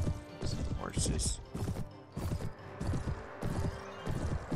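Horse hooves thud in Mount & Blade Warband, with irregular clopping amid clanking game mechanisms and battle noise, while a voice talks over it.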